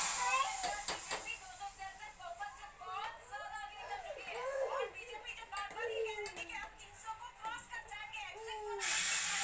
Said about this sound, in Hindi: ये दाल का छौंक लगा देंगे